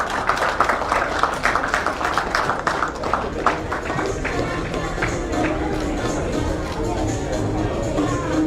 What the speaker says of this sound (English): A huge round of applause for him.